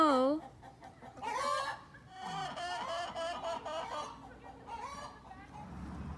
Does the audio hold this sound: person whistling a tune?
no